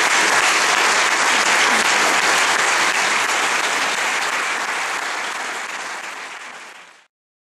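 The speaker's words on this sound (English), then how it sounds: "a big round of applause for Megan and Elizabeth and all our speakers this evening" Loud, dense audience applause at an evening anniversary lecture, thanking two hosts and the speakers, sustained steadily before fading out near the end.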